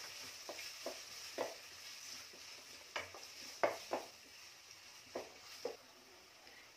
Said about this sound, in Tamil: இப்போ நம்ம கட் பண்ணி வச்சுருக்கிற வெங்காயத்தை சேர்த்துக்கலாம். இதை ஒரு 2 நிமிஷம் நல்லா வதக்கி விட்டுக்கோங்க.